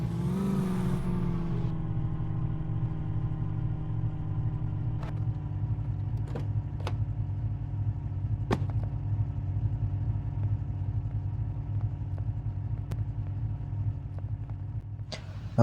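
A Toyota Fortuner engine in the video game Indian Vehicles Simulator, a steady low idling drone that briefly rises at the start, with a few sharp clicks over it.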